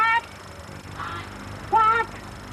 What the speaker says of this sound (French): vous avez tous les canards